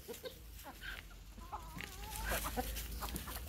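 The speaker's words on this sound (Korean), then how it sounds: "지금 고기 남긴 거 이렇게 닭들 줬더니 닭들이 다 먹네요" Chickens, including hens and a rooster, clucking while pecking at leftover meat, a busy scatter of short clucks and warbling calls from several birds close by, with a low outdoor rumble underneath.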